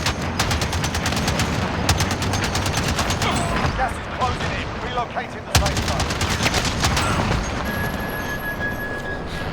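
Rapid bursts of automatic fire from the mounted gun on an armoured truck in Call of Duty: Warzone, rattling loudly in long strings with brief pauses, over a dense wash of game noise and other distant gunfire.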